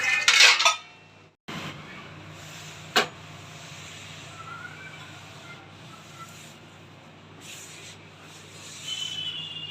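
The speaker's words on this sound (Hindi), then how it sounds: "बर्तन धो रही हूँ" Dishes, pots and utensils being washed in a home kitchen after a family meal, with a loud metallic clatter at the start, a sharp clank near three seconds, then softer running water and quieter rinsing sounds.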